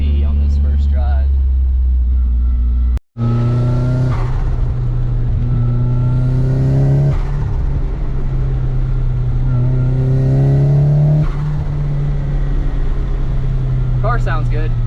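A Nissan 240SX with a CA18DET engine idles and revs in several rising pulls on its first drive, loud and close, with a brief cut near the start.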